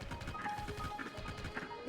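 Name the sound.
horse galloping in a video game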